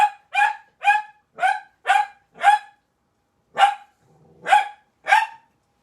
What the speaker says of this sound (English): Let me let these dogs out.